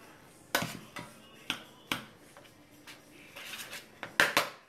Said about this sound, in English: Now you put your chopped spinach that has been drained. Mix it in very well.